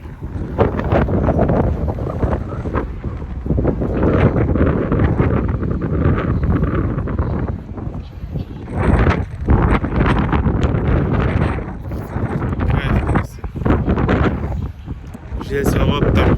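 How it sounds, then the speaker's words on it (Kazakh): Strong outdoor wind buffets the microphone in Izmir, Turkey, a loud, steady low roar with gusty surges, while a person talks through much of it. "Жел соғып тұр."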